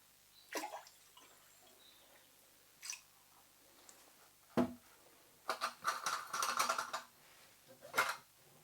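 Antifreeze is poured into a toilet cistern and pan, 250ml into each, heard as scattered soft splashes and clunks, then a longer burst of trickling liquid and a final splash, close by in a quiet bathroom.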